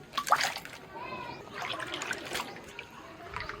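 Fresh herbs and green chillies rinsed in a bowl of water in a home kitchen, with soft splashing and trickling near the mic, sporadic and fairly quiet.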